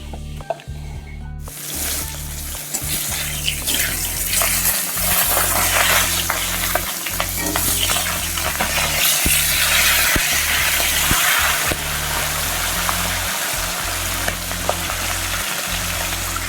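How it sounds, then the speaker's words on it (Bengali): Potatoes sizzle loudly in a pan of oil, a dense continuous crackle with regular stirring knocks and scrapes throughout, no voices. "এখন আমি এখানে ভাজছি আলু বাঁধাকপিতে দেওয়ার জন্য।"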